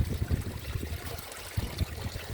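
A small stream of water trickling and burbling outdoors, a faint, continuous babble with soft low splashes, no talking.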